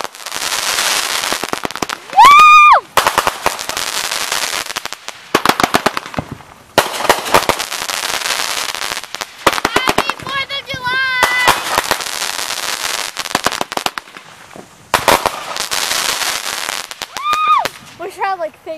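Fireworks show exploding in a sustained barrage of crackling bursts and sharp bangs, with whistling rockets rising at intervals; loud and close, with excited voices now and then.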